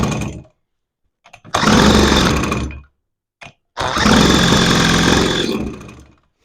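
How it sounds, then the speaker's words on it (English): A Johnson Seahorse outboard motor roars loudly at almost full throttle with no choke, in two sustained close bursts separated by brief silence. "We are at no choke and almost full throttle."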